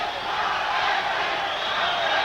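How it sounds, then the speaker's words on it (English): A largely Hispanic crowd at a Miami boxing arena roars steadily for round two, a dense, continuous wall of voices held at a loud, even level throughout. "You can hear the crowd"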